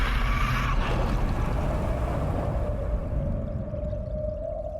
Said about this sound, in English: you hear the whale songs in Namor's motif?